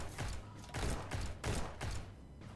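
A turret firing in the Starbound video game, rapid bursts of gunfire arriving in four or five pulses of roughly even rhythm, loud and close with no speech over them.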